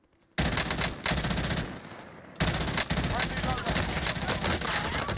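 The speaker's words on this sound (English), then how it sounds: "That guy's shooting behind us." Rapid automatic gunfire in a multiplayer shooter video game, dense bursts of machine-gun fire that start abruptly after a short quiet, pause briefly, then resume loud and sustained for several seconds.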